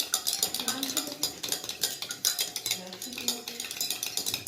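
A mixture being stirred in a beaker during a classroom science demonstration, quick repeated clinking and scraping strokes of a spoon against glass, fairly close, with faint voices in the background.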